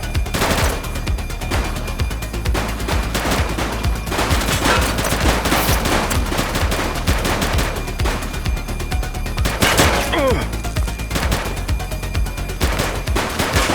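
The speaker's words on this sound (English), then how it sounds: "Shots fired!" Rapid, dense gunfire in the police video game The Precinct, bursts of automatic fire and overlapping shots rattling close and loud without a break, with heavier cracks standing out toward the end.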